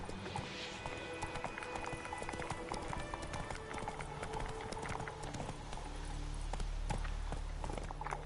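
Geralt's horse Roach gallops in The Witcher 3 on PS5, steady rapid hoofbeats clip-clopping close by throughout, with a faint whinny and some ambient game sound underneath.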